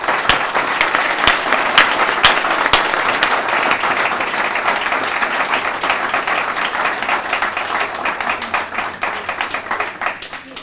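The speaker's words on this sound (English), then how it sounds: "Please join me in offering a round of applause to all of them." Sustained applause from an audience at a YWCA candidates event, dense steady clapping that carries on for about ten seconds without pause.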